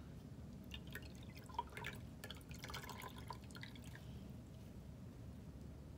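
Water drips from a soaked paper towel into a glass jar, a few soft, faint drops spread over several seconds against quiet background noise.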